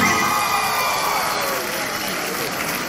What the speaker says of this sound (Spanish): ¡Aplauda a los que están enamorados aquí!